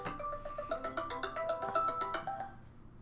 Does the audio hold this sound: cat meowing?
no